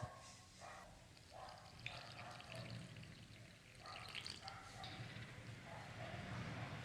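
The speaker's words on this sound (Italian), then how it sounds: "E inizio ad aggiungere acqua." Water pours into a bowl of yeast dough mixture for Christmas Eve pizza, with a soft, steady trickle and light splashing close by.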